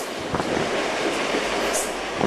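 A steady rumbling roar of a passenger train rolling along the former Lehigh Valley Railroad main line through the Lehigh River gorge, continuous and fairly loud, with no voices.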